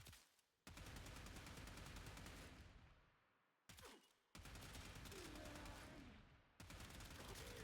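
Rapid automatic gunfire in a video game strikes an undefended enemy, coming in loud, dense bursts that pause briefly between volleys.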